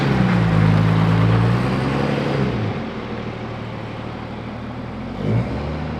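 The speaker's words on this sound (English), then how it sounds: "Sounds like a regular diesel truck." A diesel truck engine runs with a steady low rumble, revving briefly at the start and settling into an even drone, heard close up.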